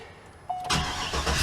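A Chevy-chassis Sun Seeker Class C motorhome engine cranks briefly, then catches and fires into a steady close idle, with no talk.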